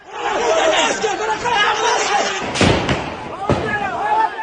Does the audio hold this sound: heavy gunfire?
yes